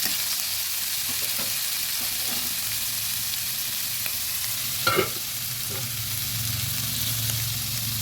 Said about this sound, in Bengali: সবজিগুলো ভালোভাবে নেড়ে দিচ্ছি